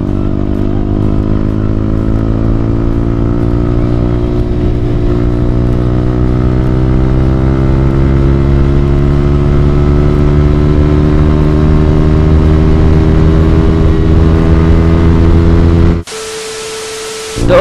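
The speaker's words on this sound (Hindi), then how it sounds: "तो गाइस अभी थोड़ा सा पुल अप करते बाइक को।" A motorcycle engine revs steadily upward as the rider pulls away, a loud, close, rising harmonic drone that climbs in pitch for about sixteen seconds before cutting out.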